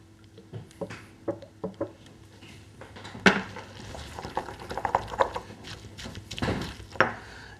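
A mortar and pestle is worked while preparing salsa with peas and olive oil, producing close, irregular knocks and grinding clatters of varied strength, spaced apart at first and then busier, with no voices.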